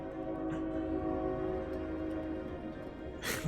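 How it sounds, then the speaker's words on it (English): A video game train horn sounds as a steady, sustained tone over a continuous rumble, with a brief brighter burst near the end. "Train."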